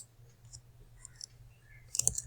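A few soft computer mouse clicks, the last small cluster near the end louder and sharper, in a quiet room while folders are added in Visual Studio.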